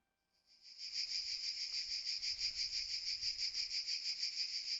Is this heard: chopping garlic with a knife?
no